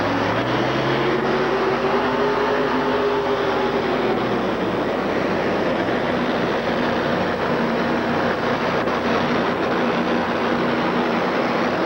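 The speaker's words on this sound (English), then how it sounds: "About 50 foot out, the motor leaned out, the power went down on it" Two-wheel-drive tractor pull vehicle at a 1987 USHRA event in Minneapolis, its engine droning steadily as it runs lean and loses power, the tone sagging and wavering under a loud, continuous arena roar.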